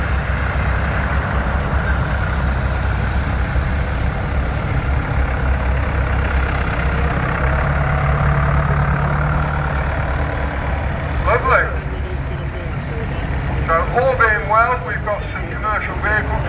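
Six-cylinder engine of a vintage Fordson Major tractor at a steam fair rally tractor parade, giving a steady, deep, low rumble throughout, with voices talking nearby toward the end.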